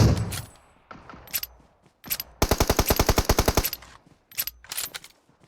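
Gunfire in PUBG Mobile rings out in short separate shots and bursts, then a long rapid automatic string of about a dozen evenly spaced cracks, followed by a few more scattered shots, loud and close.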